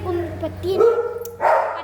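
A dog barks and yips a few times, mixed with someone talking nearby over a steady low hum.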